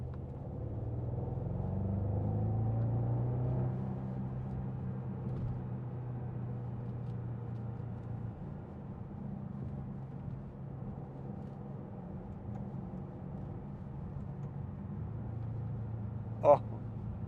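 A 2014 Bentley Continental GT V8 S with automatic gearbox and four-wheel drive accelerates on a straight road, its deep engine rumble heard from inside the cabin, swelling then settling into a steady low drone, with a voice talking over it.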